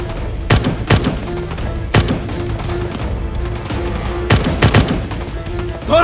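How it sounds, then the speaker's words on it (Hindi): Battle-scene gunfire: sharp single gunshots scattered irregularly across a few seconds, loud and close, over a low rumbling background with no talking. "अंधाधुंध फायरिंग कर रहे हैं लोग।"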